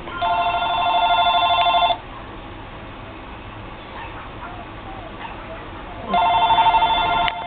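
A phone rings in two loud electronic bursts, one at the start and another near the end, with a quieter stretch of room noise between them.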